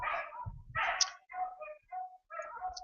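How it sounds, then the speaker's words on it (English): Dogs bark and whimper in a short burst of yips and whiny barks with uneven gaps, fairly faint and nearby, with nobody speaking. "My goodness, these dogs."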